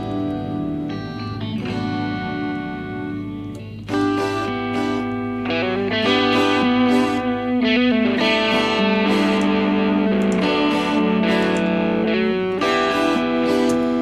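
A music track in Cubase drenched in far too much reverb: sustained, distorted tones ring out and smear into long washy tails, with chords changing every few seconds at a steady, loud level.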